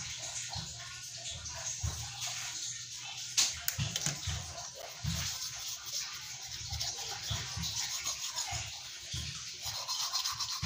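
A child brushing teeth with a toothbrush at bedtime at home, close rapid scrubbing strokes in irregular bursts over ten seconds, with faint trickling water in the background.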